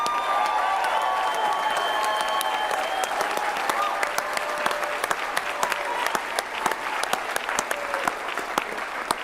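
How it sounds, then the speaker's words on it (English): A crowd applauds steadily for several seconds, dense clapping that stays loud throughout, with some voices mixed in beneath. "can you do me a favor and give him a round of applause?"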